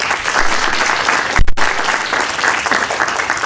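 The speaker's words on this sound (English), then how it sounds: "All right, hold your applause." Steady applause from a sizeable audience, dense clapping throughout with a brief dip near the middle, no voices.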